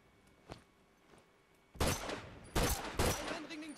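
Gunfire in The Last of Us multiplayer on PS4: a faint early shot, then two loud close bursts of shots cracking out alone, with no talk over them.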